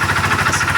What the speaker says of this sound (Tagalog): Kapag kaganyan mga bro ang tunog ng makina nyo,